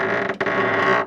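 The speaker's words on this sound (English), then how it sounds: "Without warning, the back doors of the ice cream truck swung open." The rear doors of an ice cream truck swing open with a loud, sustained creak and metallic groan, a single drawn-out mechanical sound with a brief catch partway through, close and alone.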